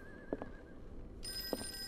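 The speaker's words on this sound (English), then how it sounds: "Oh, phone ringing." A telephone rings in the video game Call of Cthulhu, a faint electronic ring that grows into a brighter tonal trill partway through, with a couple of soft knocks and no speech.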